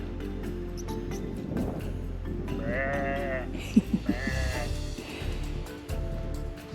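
A sheep bleats a few times at moderate distance in the Scottish countryside, wavering cries over soft outdoor background noise.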